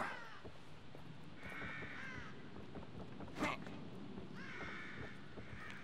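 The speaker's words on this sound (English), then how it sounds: "I hear crows." Several crows cawing in a dark horror survival video game, harsh calls repeating in small bursts from a moderate distance over a low ambient drone, with a brief louder thump in the middle.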